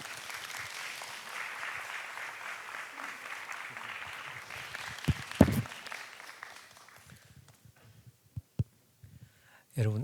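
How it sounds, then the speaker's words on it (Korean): Warm applause from a church summer retreat congregation welcoming a pastor to the stage, steady and sustained for about five seconds, then thinning into scattered claps and faint murmurs. "우리 박지용 목사님 나오실 때요, 따뜻하고 큰 박수로 환영하겠습니다"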